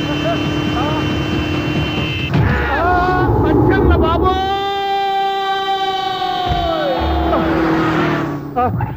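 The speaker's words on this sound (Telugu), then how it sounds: "సైరన్నే కొట్టాడు" A loud, sustained wailing siren tone rises and holds for several seconds, then bends downward, with voices and background noise around it.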